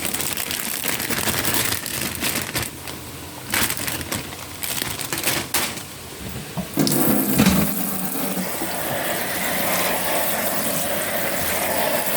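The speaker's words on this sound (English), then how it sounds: "I don't need to wash it, but I'm still going to wash it because I do like washing everything over in." Tap water running onto baby spinach in a colander at a kitchen sink, a steady hiss and splash with rustling leaves shifting under the stream, close and loud, with no talking.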